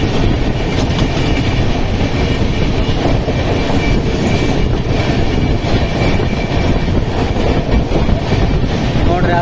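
An air-conditioned double decker express train runs at about 110 km/h, with a steady loud roar and rattle, rolling wheel noise and clickety-clack heard from inside the coach.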